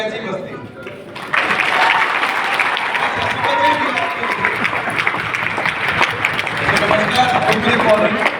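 At a millionaire mindset workshop in Vadodara, a seated audience breaks into loud, dense applause that bursts in suddenly after a quieter murmur and keeps up strongly to the end, with voices faintly mixed in.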